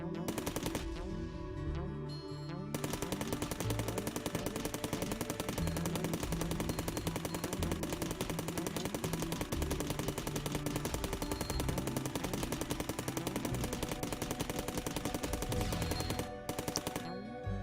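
Sustained automatic assault rifle fire in the video game Cally's Trials, a dense, loud rapid rattle running almost continuously with short breaks near the start and end, with no talk over it.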